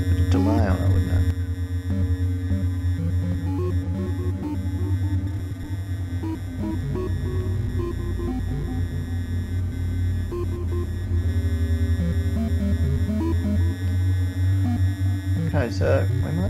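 An ArcSyn synthesizer plays sustained tones with delay repeats, steady droning pitches with echoing chirps layered over a low hum, continuous and fairly loud throughout.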